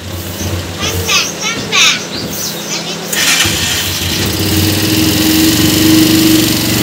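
A vehicle engine runs as it is being taken out of a shop, with a low steady rumble that grows louder and rougher after a few seconds, under voices and children's chatter.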